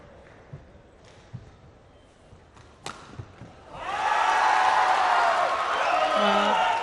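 Home crowd at a badminton quarterfinal of the 2015 India Open erupts into loud, sustained cheering and roaring that swells after a few scattered shuttle hits and thuds, continuing strongly to the end.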